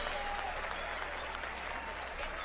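Crowd at the Palais des Sports de Marseille applauding two boxers after an influencer bout, steady dense clapping filling the arena at a moderate, distant level throughout.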